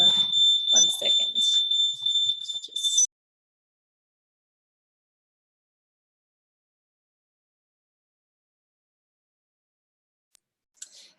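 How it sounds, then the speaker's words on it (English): A household smoke alarm shrills in rapid piercing bursts for about three seconds with voices underneath, then falls silent, followed by a brief faint chirp near the end. "we've been woken up through the night by our fire alarms going off"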